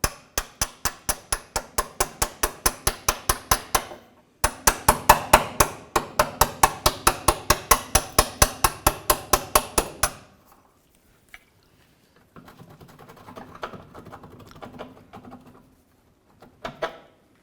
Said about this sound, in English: use a punch in the middle of the forward mounted bolt. We're going to go ahead and pop this bolt out